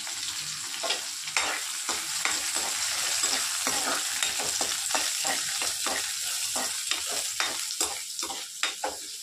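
Dry red chillies, seeding spices and curry leaves sizzle in hot oil for a peanut chutney tempering, a continuous close crackle with irregular sharp pops and stirring throughout.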